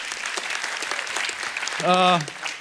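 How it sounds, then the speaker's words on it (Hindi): A television comedy show's studio audience applauds, a steady wash of clapping that continues while a voice rises briefly over it near the end. "फरहान और प्रियंका के लिए जोरदार तालियां।"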